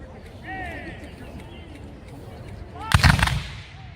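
Musket volley at a Civil War reenactment, one sharp loud burst of several near-simultaneous shots rolling into a brief echo after a quieter stretch with faint whistling and crowd murmur.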